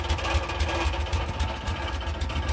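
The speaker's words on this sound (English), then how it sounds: "Oh, and the rattle you hear is just the exhaust manifold." A BMW Isetta's small single-cylinder engine, freshly fitted with a new piston and rings, idles with a rattling exhaust manifold, giving a steady, rapid, uneven throb with metallic clatter, close and continuous with no talking.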